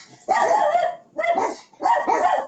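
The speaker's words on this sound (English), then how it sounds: "We have three dogs." Three dogs in a home bark in three loud, close bursts, each lasting about half a second to a second, separated by short pauses.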